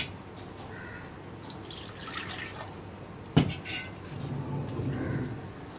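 A spoon stirring drumstick leaf and lentil curry in a pot on low flame, quiet scraping and soft wet movement with one sharp metallic clink near the middle.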